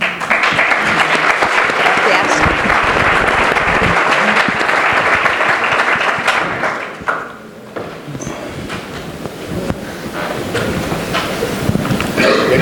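Audience applause at a Spanish book launch for 'Atapuerca: 40 años inmersos en el pasado': loud, sustained clapping for about seven seconds, then thinning out, with scattered voices and some handling noise afterwards.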